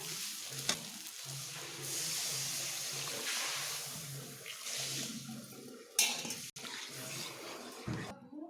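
Water poured into a simmering potol paneer masala curry in a pan on a wood-fired clay stove gives a sustained hissing rush and sizzle lasting several seconds, followed by a few clanks and stirring sounds.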